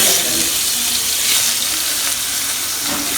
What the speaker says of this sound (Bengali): কেটে রাখা রসুন পেঁয়াজ কুচি কাঁচামরিচ এখন আমি হালকা করে ভেজে নেব